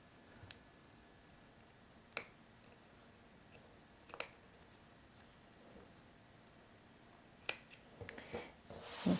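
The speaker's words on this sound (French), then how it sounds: "je vais recouper également le ruban du zip qui dépasse et qui risque de faire des surépaisseurs" Scissors trim the zipper tape on a sewn skirt, producing a few crisp, isolated snips spaced several seconds apart against a quiet background.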